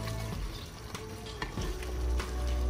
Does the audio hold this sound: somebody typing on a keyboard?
no